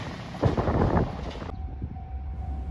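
A JR West 381 series limited express Yakumo train bound for Izumoshi at Soja Station on the Hakubi Line, rumbling with rail and wind noise that swells loudly, then drops to a quieter hum with a faint steady tone.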